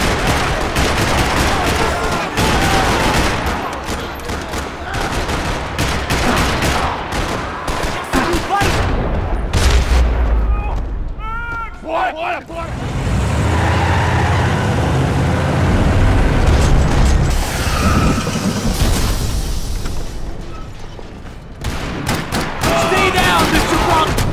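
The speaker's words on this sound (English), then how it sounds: "Another parking lot rattling with gunfire." Dense bursts of gunfire in Max Payne 3 rattle almost continuously through a parking lot, mixed with explosions and a voice talking over the shooting.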